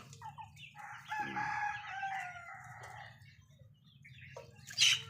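A rooster crows in a long drawn-out call, followed by softer clucking from nearby hens over a low steady hum.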